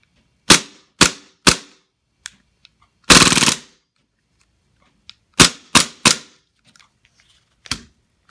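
A Smith & Wesson M&P9 airsoft pistol with a replacement nozzle dry fires in sharp, close clacks: three single shots, a rapid rattling burst, then more singles and a pair, with faint handling clicks between.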